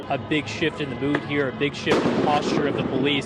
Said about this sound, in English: You can probably hear some explosions taking place there behind me.